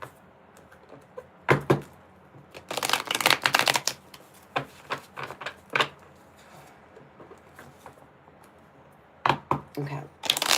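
Tarot cards are shuffled in several quick riffling bursts separated by pauses, close by, with a person speaking softly in between.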